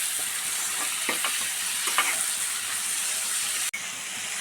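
Salt-boiled potato is stirred into a simmering curry in a pan: a continuous sizzle with a few soft scraping strokes and a sharp click near the end.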